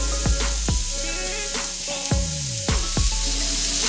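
Stir fry oil sizzles in a pan with Korean short ribs, a close steady fry punctuated by several sharp pops and clicks at irregular intervals, with no talking.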